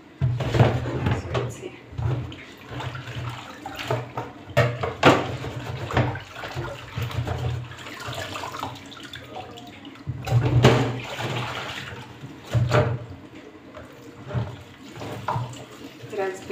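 Water running from a tap while spinach is washed in a kitchen, intermittent splashing and gushing bursts with clatters and knocks, under a voice talking.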